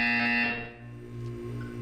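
A buzzer in the video game Portal 2 gives one loud electronic tone with stacked harmonics for about half a second, then fades into a lower hum with no voices.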